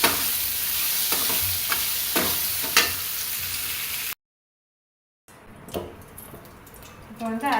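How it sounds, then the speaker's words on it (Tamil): Okra (vendaikai) sautés in a pan for puli kuzhambu, a close steady sizzle with scraping stir strokes, broken by a second of dead silence before the frying and stirring resume. "நல்லா வெண்டைக்காய் வதங்கிட்டு பாருங்க"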